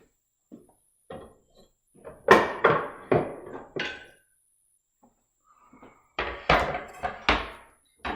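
A cutting board is pulled out and set down in a home kitchen, making a series of sharp wooden knocks and thunks in two clusters separated by quiet gaps.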